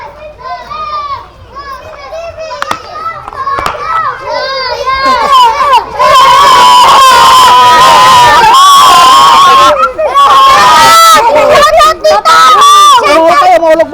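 Children shout and play at a resort, their excited high voices building into loud, continuous crowd-like cheering and babble.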